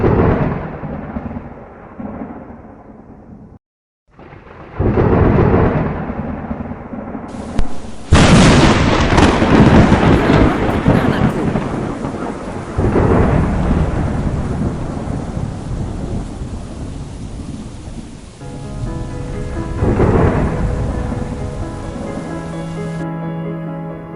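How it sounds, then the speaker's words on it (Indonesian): A heavy thunderstorm brings loud, rolling thunder cracks and rumbles over a steady downpour of rain, building after a brief gap and continuing for the whole stretch. "hujan deras turun membasahi tubuh kecilnya"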